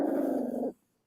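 A dog gives a low, steady growl lasting under a second, close and fairly quiet, then falls silent.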